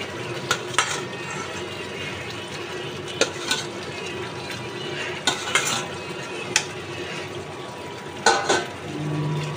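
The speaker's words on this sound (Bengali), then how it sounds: "মাছগুলো কষিয়ে নেব।" Fried rohu fish pieces are stirred through a spice masala in a pan, giving a steady low sizzle broken by repeated sharp clinks and scrapes of a spatula against the pan, with no voices.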